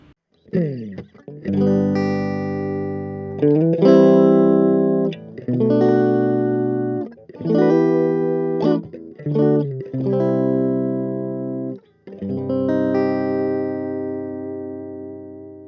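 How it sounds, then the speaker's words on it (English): Clean electric guitar chords from an American-made Fender Stratocaster in middle pickup position through a Vox AC2 RhythmVox mini amp's clean setting ring out in separate strummed phrases with pauses between them, bright and undistorted, no voices. "our first setting is the clean setting. I'll be playing a Fender Strat, American made."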